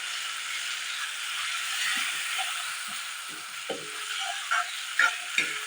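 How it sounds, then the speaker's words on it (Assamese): Dry spice masala frying in a pan for a chicken masala, a continuous soft sizzle with a few scraping stirring knocks from a utensil toward the end, close and fairly quiet. "এতিয়া মই ইয়াতে ৰেডি কৰি থৈ দিয়া শুকান মছলাখিনি দি দিম। এইখিনিও মই ভালদৰে ভাজি ল'ম।"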